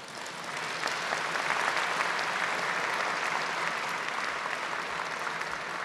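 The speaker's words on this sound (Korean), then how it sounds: "큰 박수로 맞이해 주시길 바랍니다." Sustained audience applause fills a ceremony hall at the Korea Aerospace Industries plant for the KF-21 prototype rollout, steady and dense throughout with no voices over it.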